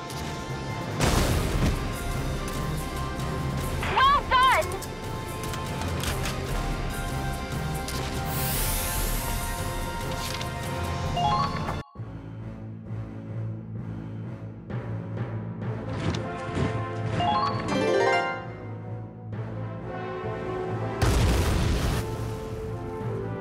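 Heavy booming cannon-fire impacts and crashes hit repeatedly over layered music and effects in Valkyria Chronicles 4, with a sharp break midway before the barrage resumes.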